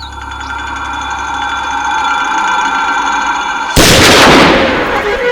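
A single sharp gunshot cracks out while hunting in a forest, loud and close, with a broad burst of noise and a ringing tail over a steady droning background.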